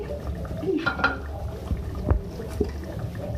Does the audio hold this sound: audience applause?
no